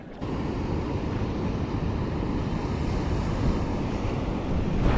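Heavy, continuous roar of water rushing over a dam on the Great Miami River, broad and steady, with wind buffeting the microphone throughout.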